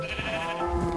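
A red sheep in the Minecraft video game gives a single short, nasal bleat, heard close and alone with no talking.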